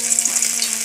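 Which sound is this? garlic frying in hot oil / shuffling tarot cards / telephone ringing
garlic frying in hot oil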